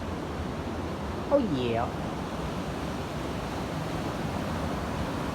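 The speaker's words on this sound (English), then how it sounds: "And you can actually hear the water just kind of roaring. We're actually walking over the dam right now." Water roars over a dam at George L. Smith State Park beside old mill equipment, a steady broadband rush heard while walking across the dam, with a short spoken remark.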